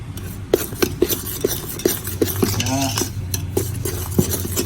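A spoon scrapes and clinks steadily against a pan as grated coconut and semolina are stirred and roasted for sooji laddu, with regular strokes and no one speaking.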